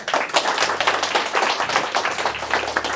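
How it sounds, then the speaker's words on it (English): A room of listeners at a talk claps in dense, continuous applause to welcome the speaker, the sound even and close with no voices over it. "Please give him a warm welcome round of applause."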